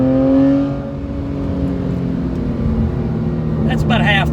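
A Porsche 997.1 Carrera with a 4.3L engine revs at about half throttle, giving a loud, steady, close engine drone that holds and builds briefly before easing.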